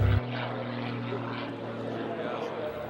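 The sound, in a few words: aerobatic propeller airplane rolling vertically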